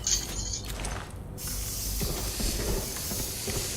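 Steady hissing spray in the video game Death Stranding 2, a continuous broadband hiss lasting several seconds with faint mechanical clicks and steps underneath, at a moderate level with no speech.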